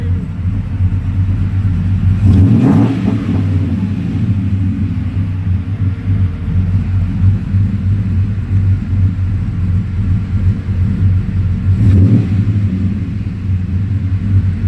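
An LS-swapped V8 in a Dodge rumbles steadily at idle, running rough at the low end, with two brief revs swelling up near the start and again toward the end.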